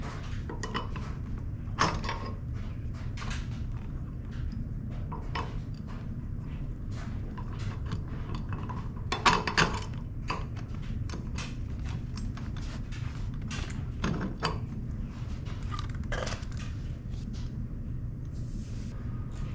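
A bolt is worked through a zero-turn mower's flat-free wheel, spacers and caster fork, giving faint, sporadic metallic clinks and taps over a low background hum.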